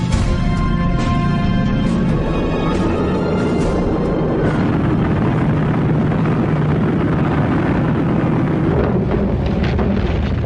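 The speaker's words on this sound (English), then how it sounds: "over 100 superfortresses took off from the Marianas" B-29 Superfortress bombers taking off from the Marianas, a loud continuous engine roar and rumble with droning tones, dense and steady throughout.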